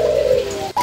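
A pet dove or pigeon gives a single close, steady low coo lasting most of the moment, ending in a brief break and a higher note, during feeding with seed grains.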